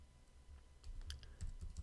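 Quiet, close computer keyboard typing as code is entered into a Shopify Dawn theme: a loose run of separate key clicks that grows slightly busier toward the end, heard alone.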